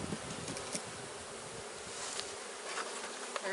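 Dense, loud buzzing of many honeybees in an opened hive, close by, a constant droning hum with individual bees flitting past.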